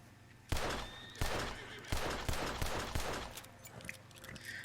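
Pistol gunfire in Red Dead Redemption 2, with several sharp shots spaced about a second apart over a low rumble, then scattered fainter bangs and clatter.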